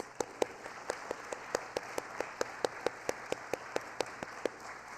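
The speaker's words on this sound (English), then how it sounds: "How about another round of applause?" At a livestreamed public reading of the Declaration of Independence, faint, evenly spaced claps tap out a steady rhythm of about four per second, sparse rather than a full roar.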